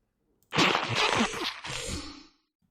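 Spidops' cry from a Pokémon video game: a rough, breathy creature cry swells suddenly, holds for under two seconds with a raspy hiss, then fades out, heard alone.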